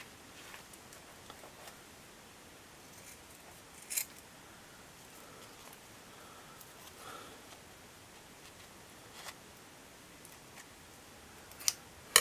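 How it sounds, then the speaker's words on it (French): Scissors cut through card in a quiet room, giving a few soft, scattered snips and clicks with faint rustling in between. "les ciseaux n'en peuvent plus"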